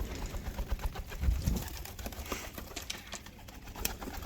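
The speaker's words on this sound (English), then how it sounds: "galahs scared them up. We've got pigeons going everywhere" Pigeons flush and scatter after galahs scare them up outdoors, with soft cooing calls and flurries of wingbeats spread across the scene at moderate distance, a brief louder burst of flapping near the start.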